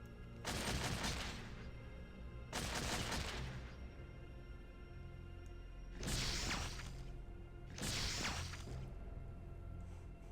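Turrets firing in the Fallout 2 video game, four sustained bursts of rapid gunfire, each about a second long, spaced evenly over a low steady background.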